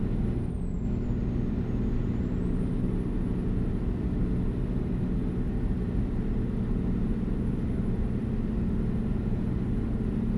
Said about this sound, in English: the sound of this truck is just amazing